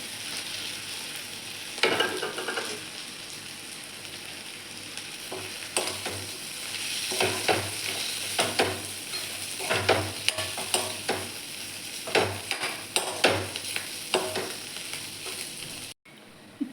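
Green chilies and masala spices sizzle in a pan while a utensil stirs them, with repeated scraping strokes at an irregular rhythm over a constant frying hiss, close and fairly quiet, with no talking.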